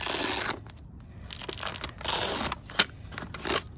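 Wrapping being pulled off the scissor jack toolkit from a 2019–2022 fifth-generation Ram 1500 spare tire kit: close, crinkling and crunching bursts in several short handfuls with brief pauses between.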